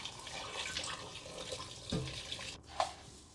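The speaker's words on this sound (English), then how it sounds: "Place them in a large stock pot and fill with 5 liters of water." Tap water runs steadily into a large stock pot, a faint, continuous splashing hiss with small shifts in tone as the pot fills.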